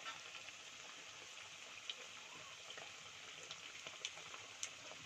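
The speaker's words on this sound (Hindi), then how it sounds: "मैं इसको डीप फ्राई होने दूंगी।" Sabudana vada deep frying in hot oil gives a faint, steady hiss and crackle, with occasional small pops standing out over the continuous sizzle.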